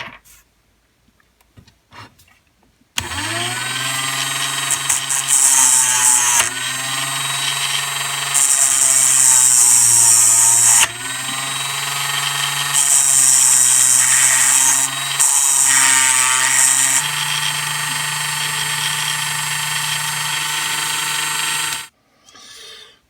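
A grinder smooths the axle hub of a vintage Dinky model car, starting abruptly after a quiet moment and running loud and steady for about nineteen seconds, with its whine pitching up and down as pressure changes, then cutting off.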